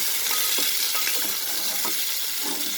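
Chicken pulao ingredients sauté in a pressure cooker, giving a steady, close hiss of frying oil broken by soft scraping strokes of a stirring spoon throughout.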